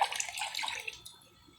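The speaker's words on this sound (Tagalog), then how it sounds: "pag ginagalaw-galaw ko yung tubig" A hand swishes and stirs water in a basin holding tilapia, producing a short splashy burst of sloshing that fades after about a second, close and fairly loud with no talking.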